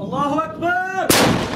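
Someone shouts, then a single loud, sharp blast rings out as a B-9 gun fires a shell at fortifications by the thermal power station checkpoint in the Ghab plain, rural Hama, followed by a rumbling tail.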